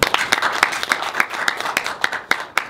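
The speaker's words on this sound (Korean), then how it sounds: "박수로 맞아주시기 바랍니다." A seminar audience at a business presentation in Gwangju claps to welcome a speaker, a close burst of scattered, uneven hand claps with no talk.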